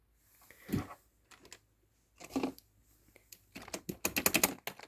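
An Evo Core computer keyboard, handled and typed on at close range: scattered clacks and a short burst early on, then a dense run of sharp key presses toward the end, with no talking.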